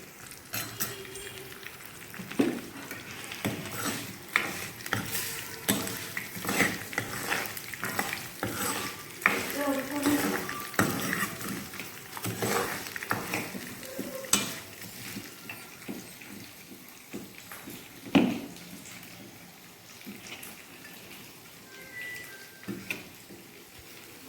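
Pulihora rice being stirred in a pan over a high flame, a steady scraping and rustling with faint sizzling underneath and a few louder scrapes of the spoon, close by, with no talking.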